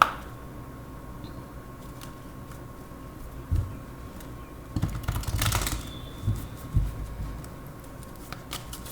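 Tarot cards are shuffled and drawn for a love reading, with faint scattered rustles and taps, then a louder burst of card riffling and slapping near the middle, close by, with no speech.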